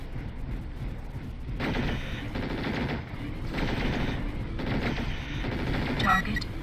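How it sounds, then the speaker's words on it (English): Rapid bursts of mech weapons fire from MechWarrior 4: Vengeance, several long stuttering volleys of loud automatic shots in close succession, ending with a short higher electronic tone. "You can shoot off like their weapons before you actually take them down."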